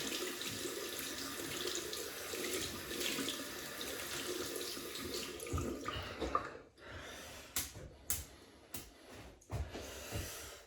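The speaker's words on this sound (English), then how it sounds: "we've got to wet the brush. We'll wet the brush." Tap water runs steadily into a sink to wet a shaving brush, then stops, leaving a few splashes, drips and handling knocks close by.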